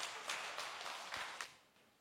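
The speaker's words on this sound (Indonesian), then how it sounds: "Boleh kita beri tepuk tangan buat beliau?" An audience at a national ceremony for a church choir festival final claps for the committee chairman, a faint, steady patter of many hands with a few louder accents before it thins out.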